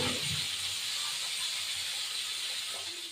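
Pieces of katla fish fry in hot oil with a loud, steady hiss that holds evenly throughout and eases off slightly near the end.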